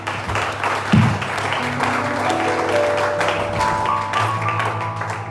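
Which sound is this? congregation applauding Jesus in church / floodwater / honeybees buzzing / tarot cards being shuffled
congregation applauding Jesus in church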